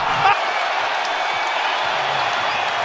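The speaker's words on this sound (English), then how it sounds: "this sold-out crowd thundering its approval" Sold-out NBA arena crowd at a Cavaliers versus Timberwolves game cheering loudly and steadily, a dense broad roar that stays continuous throughout, with an announcer talking over it.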